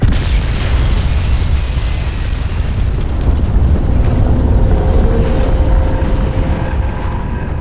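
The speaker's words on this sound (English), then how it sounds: "Explosion imminent." A loud, sustained explosion rumble from the video game Crysis 2, a dense roaring blast that fills the whole stretch with heavy low-end boom and debris noise, with no voices.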